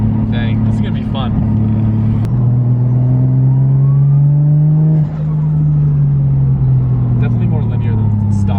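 A BMW N54 engine revs loud and close, its droning pitch climbing and falling through acceleration with a brief dip midway, likened to a Toyota 1J; voices talk over it now and then.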